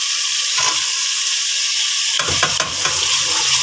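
Salt, garam masala, dried coriander, red chili and turmeric go into a tomato masala frying in a pan: a continuous close hiss of sizzling, then a scraping, stirring clatter partway through.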